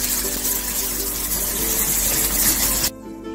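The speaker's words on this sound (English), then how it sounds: "Now you will add some strawberries inside of a sieve and start washing them." Strawberries in a sieve are rinsed under a kitchen tap, with water running in a steady, loud rush close by for nearly three seconds before it is suddenly cut off, leaving a quieter room tone.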